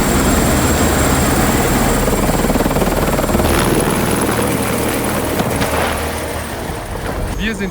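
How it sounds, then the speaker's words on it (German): A heli-skiing helicopter flies overhead in a snowy mountain valley, its loud rotor thumping and engine roar close and continuous, easing slightly toward the end, with faint voices underneath. "Der Heli wird über uns fliegen."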